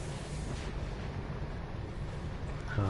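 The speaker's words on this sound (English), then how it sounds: "those are the new phaser cannons." Phaser cannons firing in the Star Trek Online space game, a steady rumbling barrage of weapon blasts that continues without a break at moderate level.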